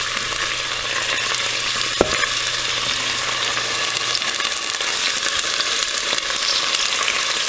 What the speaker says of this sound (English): we will brown this alligator meat